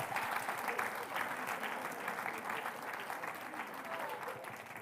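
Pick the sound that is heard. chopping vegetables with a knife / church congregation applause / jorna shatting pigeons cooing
church congregation applause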